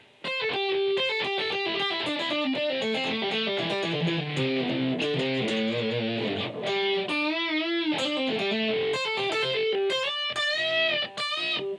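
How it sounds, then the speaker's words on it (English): Electric guitar played through heavy distortion, a sustained run of overdriven notes and bends lasting several seconds, loud and continuous with no talking. "If I'm playing distortion, the same thing is true."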